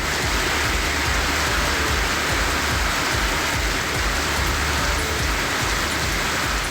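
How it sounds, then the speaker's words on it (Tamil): Heavy night-time rain pours down steadily in a dense, unbroken roar of drops hitting surfaces, loud and close with no pauses and no voices. "தொடர்ந்து இரவு நேரத்தில் இடி மின்னலுடன் கனமழை கொட்டி தீர்த்தது."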